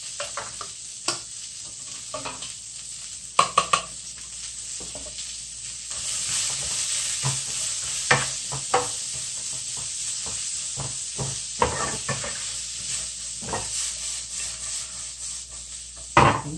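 Cabbage, onion, carrots and leeks stir-frying for jjamppong hiss in a steady sizzle that swells partway through. Frequent knocks and scrapes of a utensil punctuate it, with no talking.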